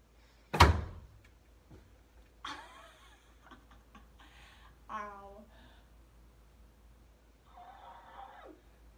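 A person practising handstands indoors thumps into a house door, giving one sharp loud knock followed by quieter scuffs, a brief laugh-like voice and a groan-like murmur later.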